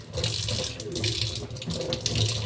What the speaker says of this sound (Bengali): জায়গাটা ধুয়ে নিই ভালো করে